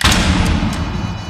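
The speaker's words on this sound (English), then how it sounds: "Flash bang out." A flashbang grenade goes off in Rainbow Six Siege, a loud dense thud-like burst that fills the moment and then rings on at high level.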